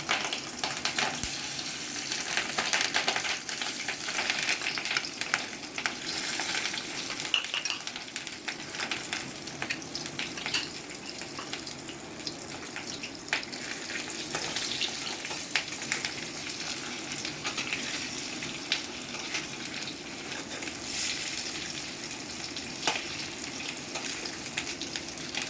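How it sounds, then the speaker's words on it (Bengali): Fish roe frying in hot oil in a pan, a continuous bright sizzle and crackle with small pops, steady and close for the whole stretch, no voices. "তেলটা গরম হয়ে গেছে, এখন মাছের ডিমগুলো ভেজে তুলে নেব।"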